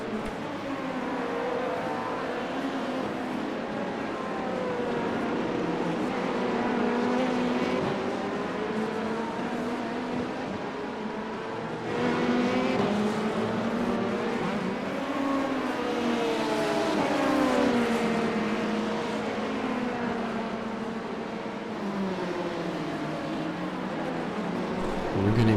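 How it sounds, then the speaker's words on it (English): Hypercar and LMP2 prototype race cars, including a Porsche GTP hypercar, in an IMSA race in the iRacing video game, with steady engine drone and shifting revs held loud throughout. "The hypercar is struggling to get by the car in front of them, and it does look like a Porsche hypercar behind us too."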